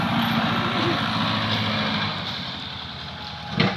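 A farm tractor working on temple grounds gives a steady, loud engine drone with low rumble throughout, and a brief sharp knock or clank near the end.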